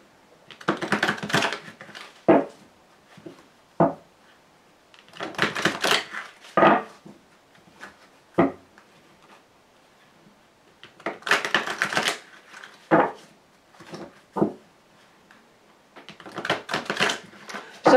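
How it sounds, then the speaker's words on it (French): Tarot cards being shuffled in several separate bouts, each a close papery riffling flurry ending in sharp taps as the deck is squared, with quiet pauses between bursts and no talking. "mélanger les cartes"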